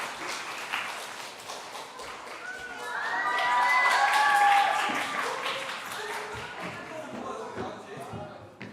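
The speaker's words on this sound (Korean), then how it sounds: "나오실 때 큰 박수 부탁드리겠습니다" A church congregation at a Sunday young-adults service claps and cheers, a steady wash of applause that swells in the middle and then eases off.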